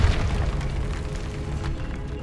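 Depulso spell blast from Hogwarts Legacy: a heavy booming thud at the start trailing into a rolling low rumble, no voices.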